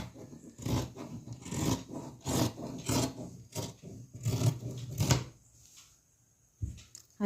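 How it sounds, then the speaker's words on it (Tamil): Scissors cut through blouse fabric in a rhythmic series of short rasping snips and scrapes, close and fairly quiet, pausing near the end before a final cut. "இப்போ கட் பண்ணிடலாம்."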